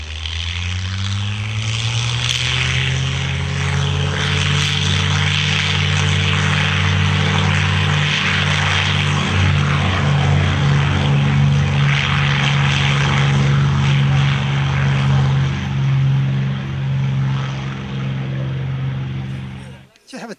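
WWII propeller warbird airplane flying, a loud steady droning engine roar with rumbling tones that holds throughout at close range, cutting off at the very end.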